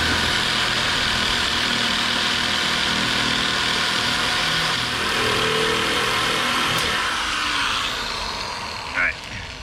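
Harbor Freight electric shears cut sheet metal for a homemade race car nose panel, making a loud, steady, close buzzing drone that runs without a break for the whole stretch.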